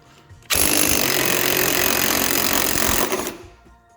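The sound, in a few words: impact wrench loosening strut bolt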